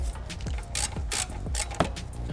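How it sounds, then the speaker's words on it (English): A hand ratchet removes the 12mm bolt holding the brake line on the front driver's side of a Toyota 86 / Subaru BRZ during a rotor install, making steady close clicking strokes with a few louder bursts. "The first thing we need to do is remove the 12mm bolt that's holding the brake line in place."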